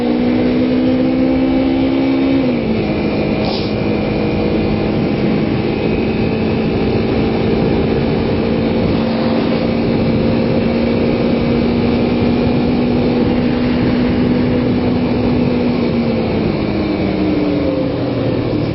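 A Kawasaki Ninja 250 motorcycle engine idles on a cold start with the choke in use, a steady loud humming drone that dips slightly in pitch early on and again near the end.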